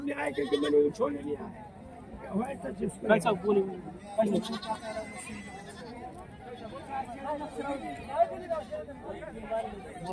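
Goats bleat repeatedly at a busy goat and sheep market in Hirapur, several calls rising over a steady background of crowd chatter and nearby voices.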